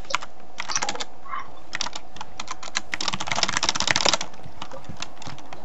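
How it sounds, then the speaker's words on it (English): Rapid keystrokes clatter on a computer keyboard during an online Call of Duty zombies session, arriving in quick bursts with short pauses between them, close and crisp, and no one speaks over them. "You suck at typing."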